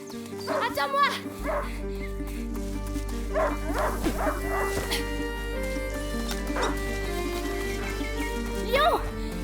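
A hunting dog barks and yips in short bursts in the video game A Plague Tale: Innocence, over a steady low hum and background music, with a voice calling out now and then.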